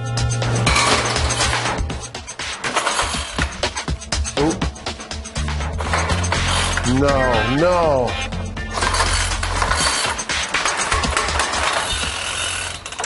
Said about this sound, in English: The tiny motor can't turn that big fan.